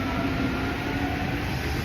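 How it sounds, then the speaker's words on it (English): A train in Tokyo gives a steady, loud rumble with a constant hum, heard close and continuous with no talk over it. "we're really in a hurry to catch this train."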